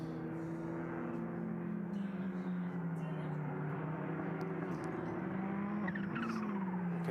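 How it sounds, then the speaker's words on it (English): A turbocharged Ferrari GT race car on track at Paul Ricard during a six-hour endurance race, its engine droning steadily with a rising high whine near the end. "You can hear the turbo whistle of the Ferrari of Jean-Bernard Bouvet"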